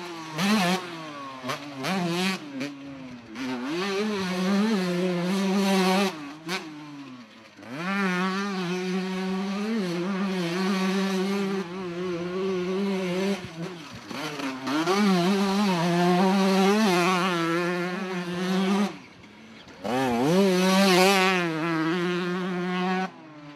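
1989 Honda 125 CR Mugen two-stroke motorcycle being ridden, its engine buzzing and screaming through repeated rising revs and gear changes, loud and close with brief throttle-off dips.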